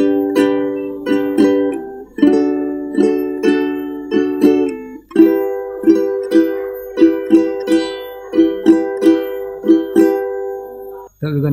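Ukulele strumming on the chord progression of a song: a close, steady rhythmic strum with regular accented downstrokes, a short break near the middle, and no talking over it.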